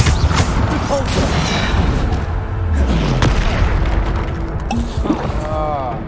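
Bombarda spell explosions in the video game Hogwarts Legacy thud and boom loudly several times in quick succession, layered with dense combat effects and a few brief whooshing magical tones.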